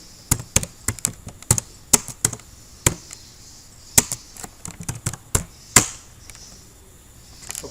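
Keys tapped on a computer keyboard while entering a MySQL command, an irregular run of sharp, close clicks with brief pauses between bursts and a quiet gap near the end.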